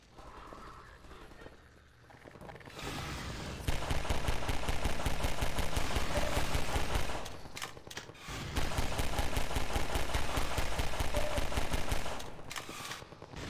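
Dense, rapid bursts of automatic gunfire in Half-Life 2, loud and sustained, with a short lull in the middle before the shooting picks up again.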